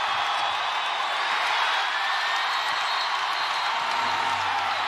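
A large basketball arena crowd at a WNBA game roars and cheers in a steady, dense wash of noise that holds at an even level throughout, with no single voice standing out.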